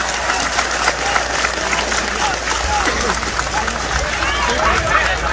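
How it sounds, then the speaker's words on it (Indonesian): Audience applause at a large outdoor Islamic gathering in Changhua, Taiwan: dense, steady clapping from a big crowd, mixed with cheering and general hubbub, loud and continuous throughout. "Tepuk tangan untuk BMI."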